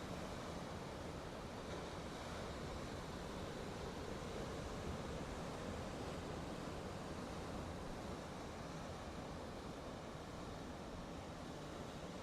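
Ocean waves break continuously at a Gold Coast beach at sunrise, a steady, loud wash of surf with some wind rumble, unbroken for the whole stretch and with no voices.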